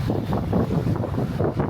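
Wind blows by open water, a steady low rumbling roar that buffets the microphone without a break, with no voices.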